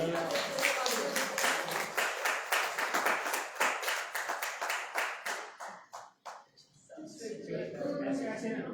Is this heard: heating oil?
no